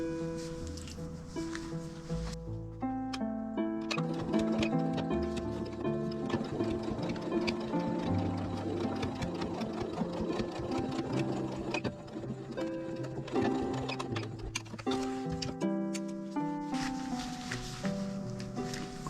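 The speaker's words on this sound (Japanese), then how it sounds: "5センチの底を縫っていきます。" A sewing machine stitches a 5 cm bottom seam on a tuck tote bag, a steady, fairly quiet mechanical whir running continuously beneath prominent background music.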